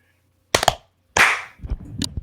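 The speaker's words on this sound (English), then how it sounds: "go with a clear clap" Sharp, loud hand claps made to sync a recording: a quick double snap, then a single strong clap with a short ring, followed by softer clatter in a quiet room.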